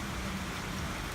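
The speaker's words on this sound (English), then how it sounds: "It's raining, it's pouring" Steady rain falls with an even hiss across the whole moment, a constant wash with no distinct drops or voices, heard during a rainy stop on an electric motorcycle road trip.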